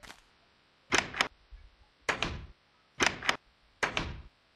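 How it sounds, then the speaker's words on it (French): Four short mechanical clunks spaced about a second apart, each a brief rattling burst of a Minecraft door swinging open and shut, against near silence. "Alors ça fait le bruit d'une porte."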